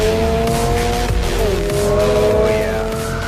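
A 2022 Subaru BRZ sports coupe's engine revs up under hard acceleration, a loud steady drone rising and shifting pitch with tire noise, heard from inside the car without talk.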